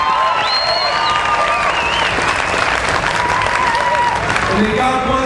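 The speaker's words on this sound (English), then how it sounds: "Come on, one more round of applause." Loud, dense applause and cheering from a standing audience at a patriotic national anthem and service ceremony, continuous and close with whistles and shouts mixed in.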